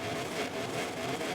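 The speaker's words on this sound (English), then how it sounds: "as we rev the engine up, and we are go" Motorcycle engine revving as the lights go out at the race start at Motegi in the MotoGP 24 video game, a steady, dense mechanical drone that holds loud and continuous throughout.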